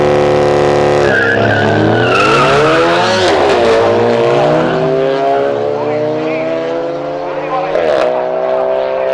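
A loud Volkswagen GTI engine roars and revs up through the gears during street racing, with tires squealing as it speeds past close by.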